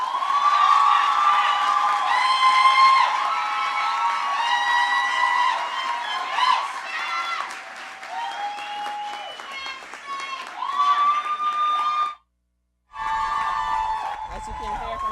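A graduation crowd cheering and applauding after a student speaker, sustained clapping mixed with high shouts and whistles, loud and continuous, briefly cutting out near the end before resuming.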